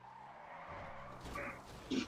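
In a video game, a car's tires skid with a short, scratchy screech and engine noise that builds toward a sharper burst at the end, fairly faint and with no voices.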